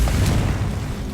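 Confringo fire spell impact in Hogwarts Legacy, a heavy booming burst with a sharp onset, low rumble and scattered crackle fading over about a second, loud and near.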